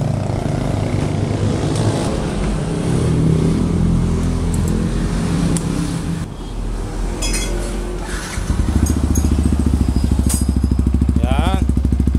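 Yamaha R15 motorcycle fitted with an aftermarket Kalkal exhaust pipe, idling and revving loudly up close with a deep, bassy, crackling exhaust note that steadies into a throbbing idle, while people talk over it.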